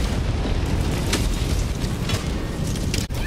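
Cannon blast in the video game Helldivers 2, a loud, sustained broadband roar of explosion filling the whole stretch, ending with a sharp cut near the close.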